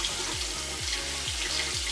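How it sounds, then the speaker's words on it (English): Warm tap water runs into a sink to rinse out a beauty blender sponge, a steady close splashing stream with a soft rhythmic slosh repeating several times as the sponge is squeezed under it. "So then I use warm water and I rinse it out"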